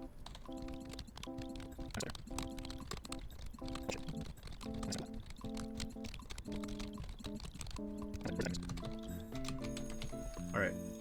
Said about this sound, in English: it's just a typing minigame